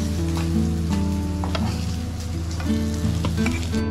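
Rui fish fries in mustard oil in a kadai with a loud, close, continuous sizzle, broken by a few sharp spits and stirring clinks, and no voice.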